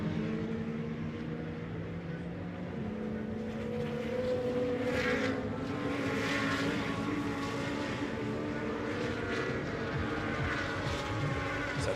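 GT2 race cars run on a circuit during a Fanatec GT2 European Series race, and their engines make a continuous rising and falling roar at mid distance that builds and swells through the middle.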